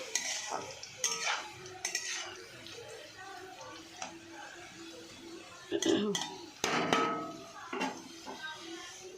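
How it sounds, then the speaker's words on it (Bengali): Potatoes frying in a pan give a low sizzle under repeated scrapes and clatters of a spatula against metal, with quieter moments between the stirring bursts. "আলু ভাজা বসিয়ে দিয়েছি"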